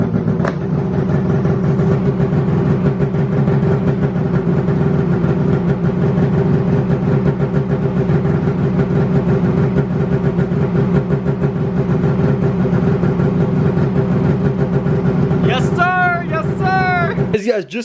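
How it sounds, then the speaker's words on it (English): A snowmobile engine fitted with a new exhaust sensor runs at a loud, steady idle close by the whole time, with a brief higher whine near the end. "We're gonna go ahead and fire the sled up and see if it cleared the code."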